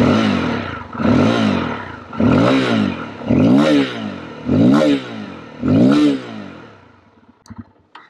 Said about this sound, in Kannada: ಸೊ ಇದು ಈ ಮೋಟರ್ ಸೈಕಲ್ ನ ಒಂದು ಬ್ಯೂಟಿಫುಲ್ ಸೌಂಡಿಂಗ್ ಎಕ್ಸಾಸ್ಟ್ ನೋಟ್